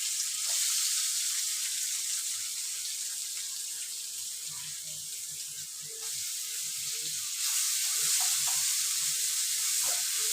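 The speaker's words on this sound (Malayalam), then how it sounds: "എണ്ണ ചൂടാകുമ്പോൾ സവാള ഇട്ട് കൊടുക്കുക. സവാള, കറിവേപ്പില, പച്ചമുളക് ഇട്ട് കൊടുക്കുക." Onion, curry leaves and green chilli frying in hot oil in a cheenachatti, a steady hiss of sizzling throughout with soft clinks of stirring, growing slightly louder near the end, with no talking.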